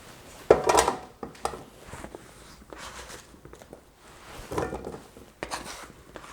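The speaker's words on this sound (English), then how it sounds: "we're going to add our ingredients to the slow cooker. I'm starting with garlic, my potatoes" Garlic and potatoes tumble into a slow cooker for a swamp potatoes and sausage dish, giving a few soft thuds and clatters with light scraping, loudest near the start and again briefly later, close by with no talk.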